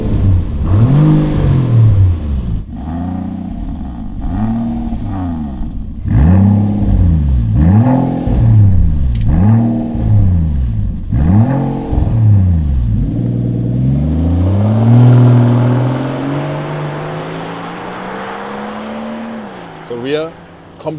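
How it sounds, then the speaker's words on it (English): A Rolls Royce Cullinan Series II with a flap exhaust and 24-inch wheels revs loudly several times in rhythmic rising-and-falling bursts, then holds one long climbing rev, close and powerful, with voices talking over it. "Thanks to our flap exhaust system, this Cullinan has a split personality."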